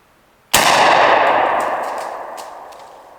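A Mossberg Shockwave firearm fires a single loud, close shot with a sharp onset, followed by a long ringing echo that slowly decays over a few seconds.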